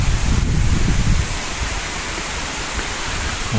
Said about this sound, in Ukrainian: От такий вітер